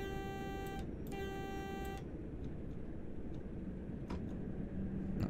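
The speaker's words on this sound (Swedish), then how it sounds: "Ska vi tuta?" A British Rail Class 09 diesel shunting locomotive horn in Train Sim World on the West Somerset Railway sounds two loud, sustained tonal blasts with a short gap between them, followed by quiet engine rumble and a few faint clicks.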